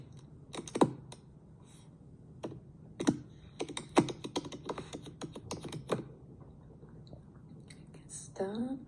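Someone types a password on a computer keyboard while installing Apache on Linux; soft, irregular key clicks in small clusters, fairly close, with a faint breathy murmur near the end.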